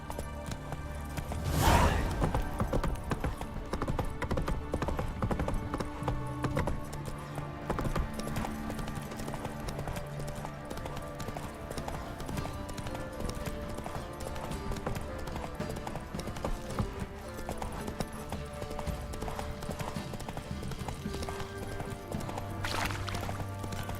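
Horse hooves galloping in The Witcher 3, a steady rapid clip-clop rhythm of a ridden horse carrying on across the whole stretch, mid-distance under game music and ambience, with a brief whinny-like burst near the start.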